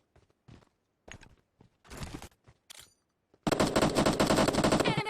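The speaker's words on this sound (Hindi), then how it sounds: "कोई बंदा आगे से गोली चला रहा है" Rapid automatic gunfire from a mobile battle-royale shooter game bursts in loudly and continuously in the second half, after a few scattered short shots and clicks.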